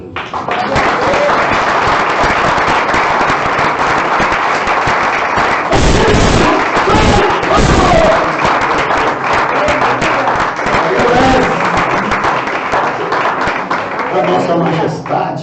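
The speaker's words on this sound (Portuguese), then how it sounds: "Dê um aplauso a Jesus." Dense, loud congregation applause during a church service, sustained throughout with a roaring, crackling texture, likely mixed with cheering or music under it.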